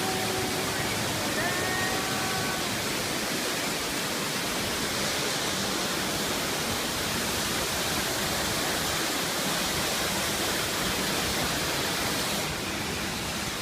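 A waterfall in Cornwall pours in a dense, constant hissing roar, loud and close, unbroken for the whole stretch.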